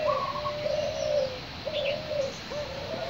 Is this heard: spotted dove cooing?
yes